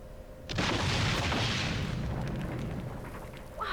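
A launcher weapon fires in the video game Lifeline: a sudden heavy boom bursts in, then rolls on as a long, loud rumbling blast that slowly fades, with a smaller knock at the very end.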